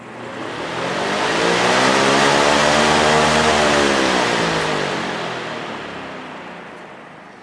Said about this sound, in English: This one actually has a little bit of a startup sound.